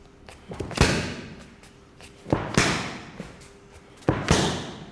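Three hard, sharp right hook punches smack into a Muay Thai pad, spaced roughly two seconds apart, each a close, loud slap with a short decay, no talking in between.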